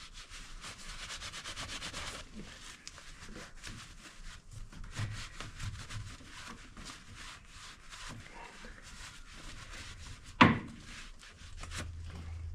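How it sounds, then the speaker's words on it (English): Rubbing and scrubbing on the ball joints of a Polaris RZR 900 XP spindle, a steady scraping texture running throughout at close range, with a sharp click or clank near the end. "I'm going to clean the ball joints"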